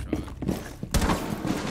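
Gunfire through a wall in Rainbow Six Siege, a few muffled shots followed by a louder, sharper burst of rapid fire near the end.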